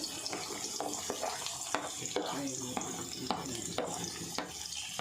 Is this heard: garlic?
yes